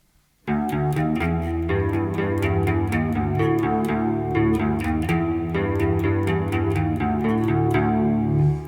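Electric guitar riff with a shimmering chorus effect, repeated plucked notes in a steady rhythm, loud and alone with no talking.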